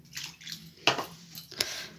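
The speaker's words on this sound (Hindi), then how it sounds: "इसमें हम थोड़ा सा पानी डालते हैं" Small amount of water poured into a semolina batter made with leftover rice, short splashy trickles with a couple of sharper spoon-on-bowl clinks, close and moderately loud.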